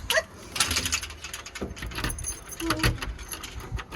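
Keys jangle and clink repeatedly while someone tries to unlock the front door of an old fixer-upper house being renovated in Australia, close and fairly quiet, in irregular bursts with no talk.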